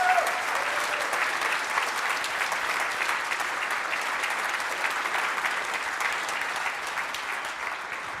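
Sustained, dense applause from a conference audience at the close of the final talk, steady and full for about eight seconds, then tapering slightly near the end.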